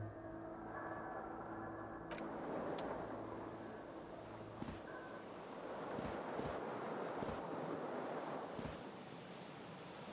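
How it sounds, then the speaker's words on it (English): Cool wind gushing in through a smashed window in the video game Disco Elysium, a steady whooshing rush with soft rumbling gusts and a few faint knocks, with no talk over it. "The cool wind gushes in."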